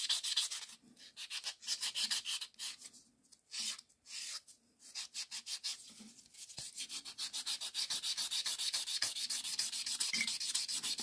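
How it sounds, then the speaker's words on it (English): An acrylic nail is shaped with a hand file in quick, rhythmic rasping strokes, soft and close up, with brief pauses between bursts and no talking. "And I actually did this whole hand filing."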